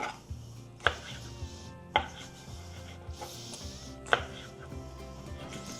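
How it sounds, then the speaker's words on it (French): A knife chops squid tubes into rings on a cutting board, giving several sharp, close knocks at an irregular pace over quiet background music. "Pour la partie encornet ou tube de calmar, moi, ce que j'aime faire, c'est simplement des rondelles."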